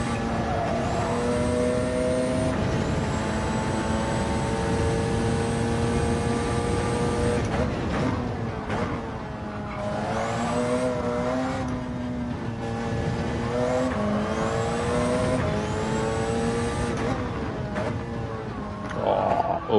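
A GR1-class race car in Gran Turismo 7 laps a circuit at Spa, its engine droning steadily with rising and falling pitch through gear changes and a lift-off coast, loud and continuous with no talking.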